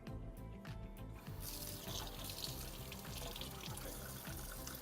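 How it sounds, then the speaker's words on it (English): A strainer from an Envoy lane-machine cleaner rinsed under running tap water, a steady, close, full-bodied flow with a rhythmic mechanical pulse underneath. "All we have to do now is rinse out the strainer and take a look through it to see if it's still clear."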